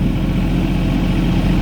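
A Mahindra 1626 tractor engine idling close by, a steady low diesel rumble with an even, unbroken drone and no speech over it.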